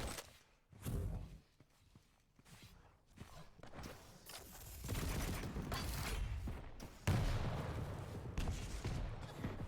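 Rocket launcher blasts and explosions in a Quake duel, repeated sharp bursts over a busy wash of gunfire and footsteps, growing louder and denser toward the end.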